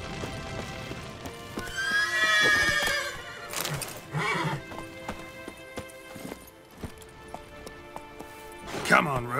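Roach, Geralt's horse in The Witcher 3, whinnies loudly and shrilly amid clip-clopping hooves, with a second neigh near the end and speech mixed in with the game sounds.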